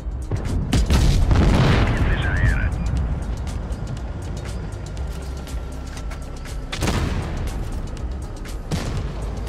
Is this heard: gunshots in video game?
yes